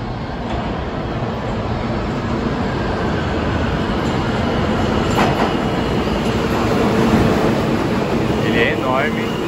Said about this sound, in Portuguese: Lá tá vindo nosso trem.